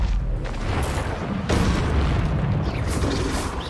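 An Expelliarmus spell is cast during combat in Hogwarts Legacy: two loud, booming bursts, one at the start and one midway, each followed by a rumbling tail and a burst of crackling noise.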